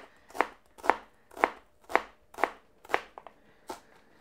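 A kitchen knife chopping an ingredient on a cutting board while preparing sausage rolls: seven or eight crisp, evenly spaced strikes about half a second apart, close and distinct, with no talking.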